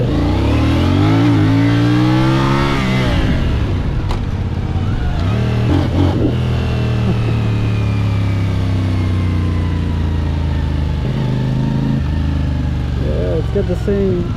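A CFMOTO 450CL-C A2 bobber motorcycle engine revs and accelerates hard close by, pitch sweeping up and settling into a steady loud drone, with people talking over it.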